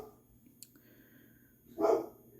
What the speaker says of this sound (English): If you hear barking, ignore my dogs.